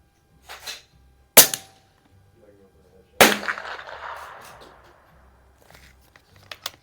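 Two sharp, close shots from a Umarex Iconix Buck Rail air pistol fitted with a collet suppressor, fired at an outdoor range, each a crisp crack with a brief tail and quiet gaps between.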